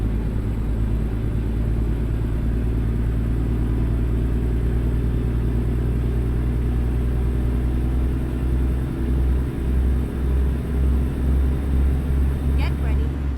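A truck engine in American Truck Simulator pulls steadily under acceleration, a loud continuous low drone with a rising tone and a few deeper pulses near the end, while a person talks over it.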